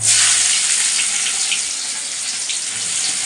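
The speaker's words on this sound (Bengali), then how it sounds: "এগুলো এখন পেঁয়াজগুলো এই যে কড়াইতে দিয়ে দেবো" Onions hit hot oil in a kadai, giving a loud, steady hiss of frying that fills the short stretch with no breaks.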